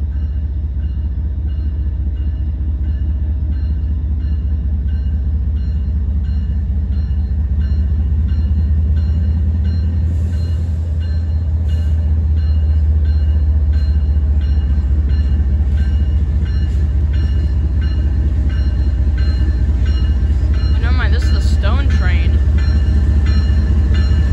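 A Norfolk Southern ethanol freight train rolls steadily past, a heavy continuous low rumble with wheel clatter and squeals building louder toward the end, while someone talks over the noise.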